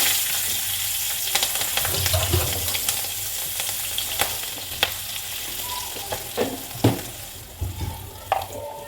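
Nigella seeds and green chillies frying in hot oil in a pan, a steady close sizzle broken by occasional sharp clinks and scrapes of a stirring utensil.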